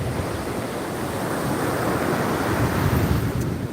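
Ocean surf washes in as the tide comes in under sunny skies, a steady broadband roar of breaking waves mixed with wind buffeting the microphone, with no speech.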